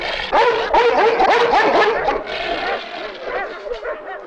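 A dog lets out a quick run of yips and barks with some whimpering, close and fairly loud, then trails off into quieter whines.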